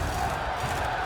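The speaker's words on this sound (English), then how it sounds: "Crowd, raise a ruckus!" Dense, steady roar of a large arena crowd shouting and cheering in The Witcher 3: Blood and Wine, a continuous wall of voices throughout with no individual words standing out.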